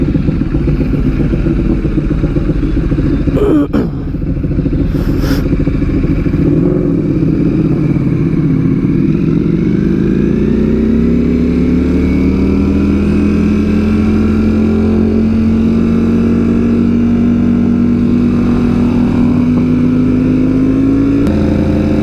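Ducati motorcycle with a loud SC Project exhaust, a Streetfighter V4S or 1299S, on a coastal ride: a steady, close engine drone under wind with a gradual rise in pitch as it accelerates and holds speed.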